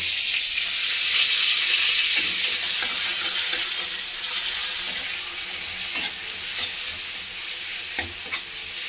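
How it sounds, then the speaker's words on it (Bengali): Grated onion with cumin and a bay leaf fries in a pan, a steady hissing sizzle broken by repeated scraping and clacking strokes of a spatula as it is stirred, close and without talk. "এটাকে ভালো করে নেড়ে চেড়ে নেব, পেঁয়াজের যাতে কাঁচা গন্ধটা চলে যায়।"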